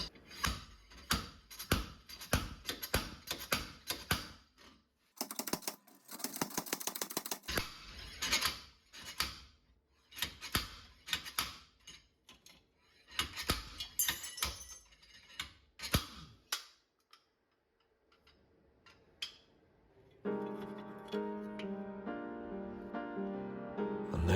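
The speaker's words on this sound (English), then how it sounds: "The slide hammer simply screws in" A slide hammer pulling the rear wheel bearing of a Porsche 928GT, a run of sharp metallic clacks and bursts of impacts in quick clusters, then a pause and a steady ringing metallic tone near the end.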